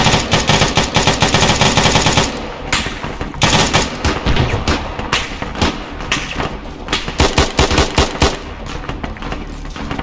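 AK rifle fire in the Arma 3 video game, loud rapid automatic bursts with dense overlapping shots and thumps, near and continuous with brief gaps.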